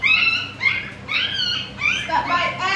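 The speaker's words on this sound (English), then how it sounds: "we have puppies on the ground here" Puppies whimpering and yipping on the ground outdoors, a series of high, wavering cries overlapping one another at close range, with a voice talking in the background.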